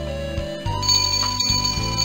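A bell rings in the 1996 PC game Danny and the Dinosaur, a bright sustained electronic chime with a steady metallic ring over low pulsing game music, heard alone without talking.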